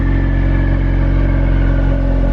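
A Ford RS car engine with a newly fitted loud aftermarket exhaust idles close by, a steady, heavy low drone with a constant hum and no revving or speech.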